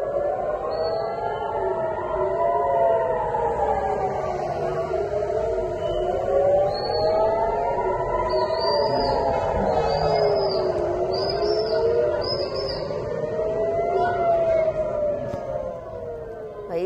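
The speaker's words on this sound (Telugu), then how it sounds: "దేశమంతటా ఎయిర్ రైడ్ సైరన్ల మోత మోగుతోంది" Air raid sirens wail across Israel during a missile attack, with several overlapping rising and falling tones droning continuously at a steady, loud level, with faint higher whistles layered on top.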